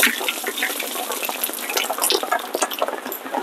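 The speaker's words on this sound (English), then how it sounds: "But here, out here, it is raining out here. It's pouring out here right now." Heavy rain pours outdoors in the cold, a dense, steady hiss of falling water that fills the whole stretch, loud and close with small splashy bursts and no voices.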